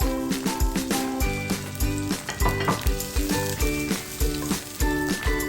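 Garlic sautéing in a little cooking oil for adobong bangus, a steady bright sizzle running under loud rhythmic background music for the whole stretch.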